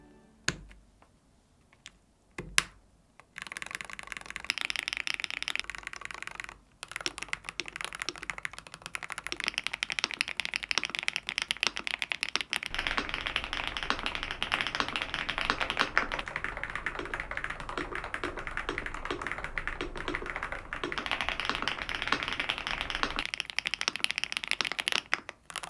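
Fast, continuous typing on an ordinary mechanical keyboard, with a dense clatter of key clicks close to the mic that runs steadily after a short quiet start and a few isolated taps.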